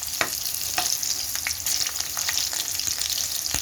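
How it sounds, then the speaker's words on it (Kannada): Stuffed bitter gourd fries in a pan over low heat, giving a steady, dense sizzle close by with occasional sharp crackles and pops and no voices. "ಹಾಗಲಕಾಯಿನ ಚೆನ್ನಾಗಿ ಅವಾಗವಾಗ ಎಲ್ಲ ಕಡೆನೂ ತಿರುಗಿಸಿ ಬೇಯಿಸ್ಕೊಳ್ಳಿ"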